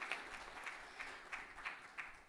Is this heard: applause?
yes